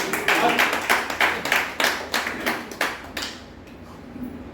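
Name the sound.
audience clapping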